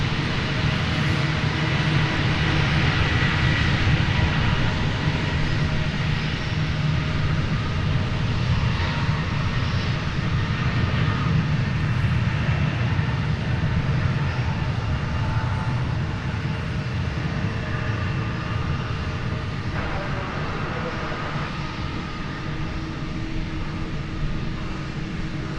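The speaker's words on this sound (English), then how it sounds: "So this is one of 12 planes that want to take off right now" A jet airplane roars steadily on a runway at DFW airport during takeoff, a loud, broad, continuous engine rumble that eases slightly toward the end, with no talk.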